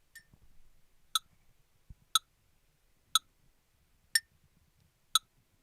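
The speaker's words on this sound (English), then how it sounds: "I'm going to set the metronome" Sharp metronome clicks at 60 BPM, about one per second, five in a row with quiet room noise between them.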